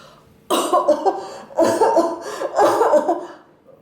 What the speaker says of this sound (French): Vous toussez fort, madame.